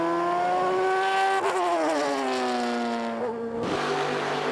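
A 2007 Porsche RS Spyder race car at the Sebring circuit screams at high revs, close and loud. Its engine pitch drops through quick gear changes before climbing again.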